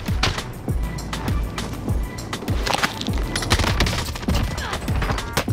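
Rapid gunfire from a multiplayer shooter video game, sharp repeated shots in an irregular burst pattern running continuously and loudly throughout, with sniper fire among the exchanges.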